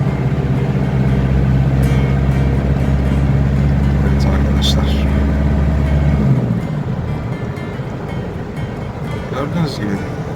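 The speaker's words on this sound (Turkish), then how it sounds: "Demek ki bir çift kabin kamyonet, Toyota, pickup, Hilux." A Toyota Hilux double-cab pickup truck drives past, its loud, steady low engine and road rumble filling the first six seconds before fading away under lighter traffic noise.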